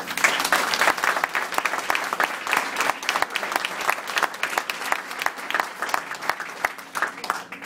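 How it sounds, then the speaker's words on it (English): Steady, dense applause from a large audience, a sustained wash of clapping at even loudness from start to finish. "So give yourself a round of applause."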